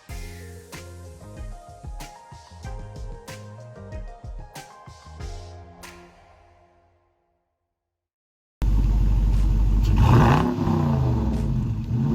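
A stock 375-horsepower 2017 Dodge Challenger with a muffler delete and straight pipes bursts in loud and close with a deep, rumbling rev after several seconds of music and a brief silence.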